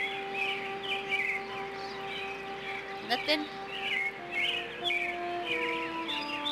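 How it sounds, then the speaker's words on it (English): Small birds chirping in a video game, repeated bright tweets over a steady tonal hum with faint game sounds, while someone briefly speaks. "Those birds are kind of making me mad. I don't like the sound of those birds."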